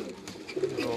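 Pigeons coo on a rooftop in Karachi, giving soft, low rolling calls close by over a faint background.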